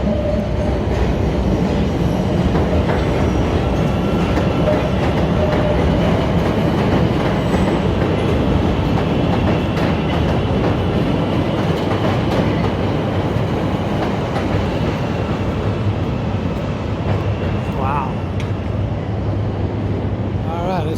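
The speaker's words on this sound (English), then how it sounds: "Here's another train." A train rumbling past in foggy downtown Chicago on Wabash Avenue, a loud continuous roar with rattling wheels and metallic screeches, heard up close over street noise for the whole stretch.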